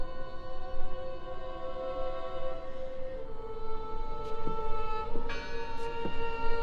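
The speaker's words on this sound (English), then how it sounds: "I heard the bell." A church bell rings in the horror adventure game Draugen, several sustained resonant tolls hanging over a low rumbling ambient bed, with fainter struck tones joining partway through.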